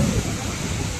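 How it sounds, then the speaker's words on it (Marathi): Ozarde waterfall in Maharashtra roars steadily nearby, a dense, unbroken rush of falling water that stays loud and even throughout with no pauses. "कसा आहे धबधबा बघा"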